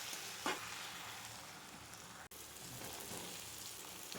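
Onions frying in a pan on the stove, a steady soft sizzle with a crackly hiss throughout, one brief louder spatter near the start, fairly faint and with no voices.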